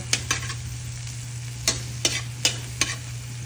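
Garlic sautéing in a pan for a creamy chicken curry: soft frying sizzle under a steady low hum, broken by several sharp clinks and scrapes of a utensil stirring against the pan.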